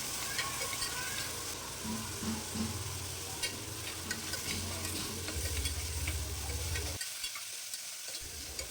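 Tomato, green chillies and mint fry in a pan with a steady close sizzle and occasional stirring scrapes, which drop away near the end.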